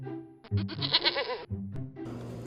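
Goats bleat in a quick run of several wavering, nasal calls that overlap at close range, followed by a brief pause and a burst of rougher noise at the end.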